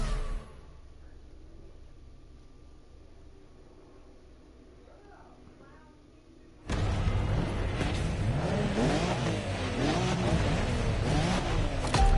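Nissan GT-R R32 or R34 race car engine in The Crew Motorfest, quiet at first and then bursting into a loud, sustained roar with rising and falling revs from about seven seconds on.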